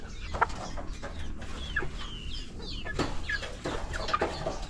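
Decaled white chickens clucking close by in a backyard, a scatter of soft clucks and short calls over a low background rumble.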